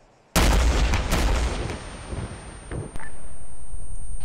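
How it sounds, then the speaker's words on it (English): A rocket launcher fires in the ARMA military game during a compound raid, one sudden loud blast followed by a roaring, fading rumble, then a second sharp report and sustained noise. "Rocket, rocket, rocket."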